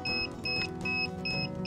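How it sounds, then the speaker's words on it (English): A DJI Phantom 3 Professional drone gives repeated two-tone electronic beeps in a steady rhythm, about four short pulses, close and clear with no talking. "And it's beeping for some reason."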